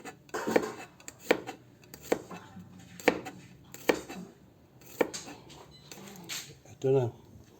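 A knife slicing through food on a cutting board, a series of sharp chopping knocks about one per second with talk between the cuts.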